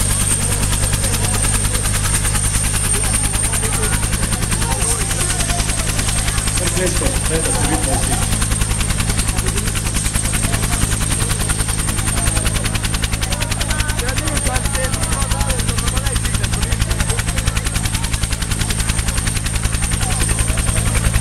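A Slovenian police Bell 212 helicopter drones loud and steady throughout, its rotor thump and engine whine filling the scene at an outdoor event while a voice speaks briefly over it.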